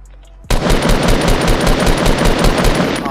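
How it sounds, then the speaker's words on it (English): Loud rapid automatic gunfire in Fortnite starts abruptly after a half-second of quiet and keeps going as a dense, continuous burst with no talking over it. "I'm about to start shooting at him so he starts building."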